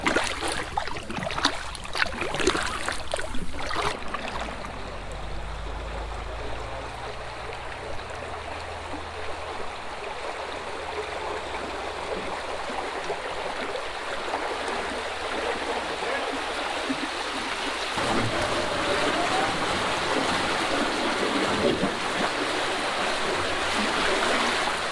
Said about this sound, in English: Nearest we get to whitewater paddling.